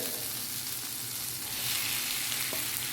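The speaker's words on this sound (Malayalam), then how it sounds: "നന്നായി ഇളക്കി യോജിപ്പിക്കണം" Egg masala with chopped boiled egg and coriander leaves is stirred in a pan over a continuous soft sizzle and frying hiss, with faint scraping.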